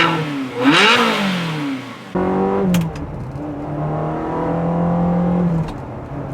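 A manual Ferrari 360 fitted with a 2B exhaust revs loudly up close, rising and falling, then holding a steady high-pitched engine note after an abrupt change in sound.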